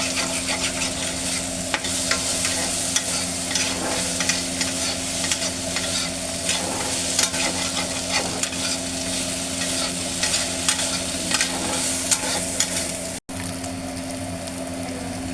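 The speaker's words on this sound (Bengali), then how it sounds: "এই দেখুন বেগুনটা ভাজা ভাজা হয়ে এসছে।" Brinjal pieces fry in oil in a pan for a fish curry, a constant close sizzle broken by frequent scraping clicks of stirring, with no talk.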